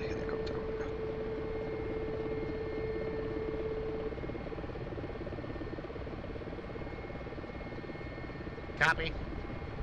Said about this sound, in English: And that's my helicopter.